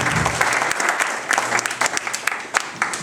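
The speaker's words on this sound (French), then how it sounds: "Je voudrais demander de l'applaudir" An audience at a prize-giving celebration applauds someone being thanked, a continuous crowd clapping with scattered sharper individual claps standing out, moderately loud and sustained throughout.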